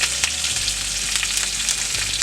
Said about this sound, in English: add the curry leaves